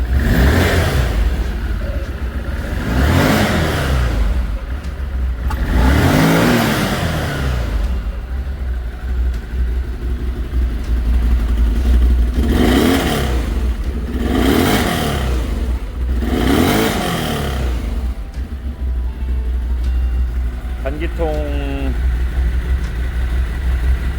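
An Odes Pathcross 650 off-road vehicle engine idles with a steady low rumble through its muffler and is revved several times in loud bursts that climb and fall, with a brief voice near the end.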